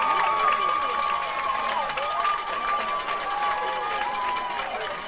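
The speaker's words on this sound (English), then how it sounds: "I'll describe it as soon as the crowd stops cheering here." Crowd cheering at a softball game right after a double play, a sustained roar of voices and shrill yells that slowly eases, heard from the stands at steady volume.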